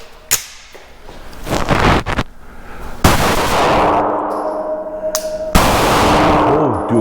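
Loud, close gunshots from a Shadow Systems MR920 pistol fired on a range, a few sharp cracks spaced seconds apart, each followed by a long echoing ring.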